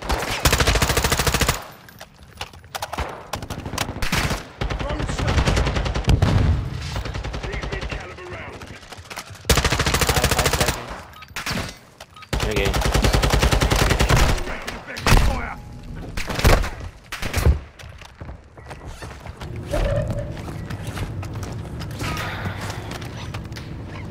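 Bursts of automatic gunfire and single shots ring out in the shooter game DMZ, loud and close with short silent gaps, under frequent excited talk from players.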